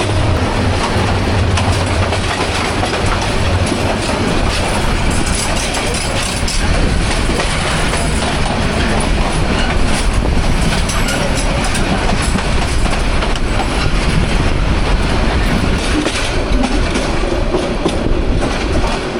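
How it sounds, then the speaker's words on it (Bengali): Jamuna Express train passing close by, a loud continuous rumble of rail cars with steady clickety-clack from the wheels and a faint squeal, sustained throughout with no talk. "সম্ভবত যমুনা এক্সপ্রেস।"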